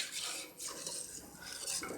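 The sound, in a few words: stirring chocolate custard in milk in a pot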